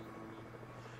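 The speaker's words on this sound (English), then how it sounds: "and see, helicopter delivery." Helicopter arriving for a delivery in the video game Evil Genius, a steady low rotor drone and engine hum holding at an even level throughout the short stretch.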